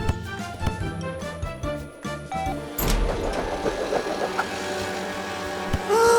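A cartoon vehicle engine revs and races with its new exhaust, loud buzzing motor tones rising and shifting over music, with a sharp surge partway through.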